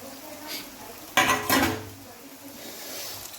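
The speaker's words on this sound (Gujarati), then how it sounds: "હવે આમ મિક્સ કરી નાખશું." A spoon scrapes and stirs through chopped boiled egg pieces in a pan of spicy egg curry, two short clattering strokes standing out against a faint background sizzle.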